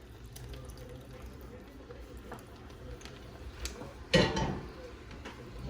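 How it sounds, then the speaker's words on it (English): Creamy Alfredo sauce is poured over fettuccine with chicken, giving soft, faint liquid trickles that end in one louder wet splash near the end over a quiet kitchen background. "I'm gonna take my Alfredo sauce and I'm going to start pouring that on top."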